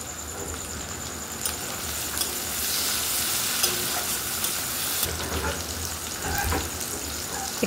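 Tomato going into a pan of ginger-garlic masala frying in oil, giving a steady close sizzle with stirring scrapes and a brief louder hiss partway through, no talking.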